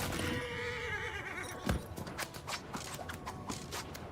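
A video game horse whinnies loudly up close, followed by rhythmic hoof clops on hard ground.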